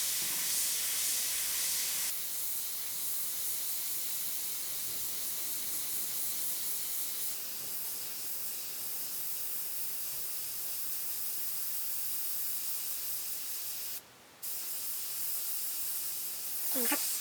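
A long, steady airbrush hiss sprays paint for miniature painting, close and constant, with a brief cut in the airflow near the end.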